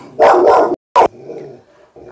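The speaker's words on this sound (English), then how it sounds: "the dogs are very talkative this morning" Dogs barking close by in the morning: two loud, sharp barks with a brief gap, followed by softer whining and low yips fading off.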